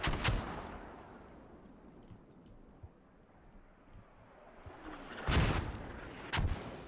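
Mortar rounds land during a team battle in a military shooter game, heavy booming impacts with a sharp hit near the start and two more loud blasts toward the end over a rumbling backdrop.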